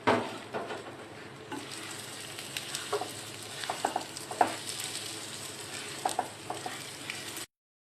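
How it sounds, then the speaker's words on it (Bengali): Rice frying in ghee in a pan, a steady close sizzle with occasional scraping stirs and light clicks, running continuously until it cuts off abruptly. "এবার আমি ওই ঘিতেই রাইসটা ভেজে নেব।"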